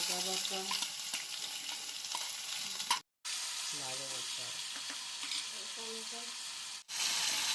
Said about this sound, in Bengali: তারপর পেঁয়াজ, আদা, রসুন ও অল্প টমেটো বাটা দিয়ে নাড়াচাড়া করতে হবে।